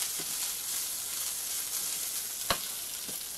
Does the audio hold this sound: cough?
no